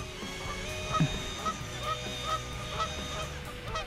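Geese honk repeatedly at a distance, short nasal calls spaced every half second or so over a quiet outdoor background.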